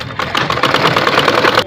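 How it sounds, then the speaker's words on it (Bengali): A sewing machine stitching a shirt, a fast, even mechanical rattle running close and loud for under two seconds. "ওটার সাথে সেলাই করে দেব।"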